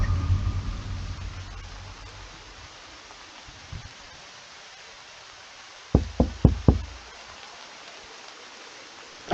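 A quick run of four sharp knocks on a door, close and distinct, following a low rumbling stretch and a single faint tap, with quiet between.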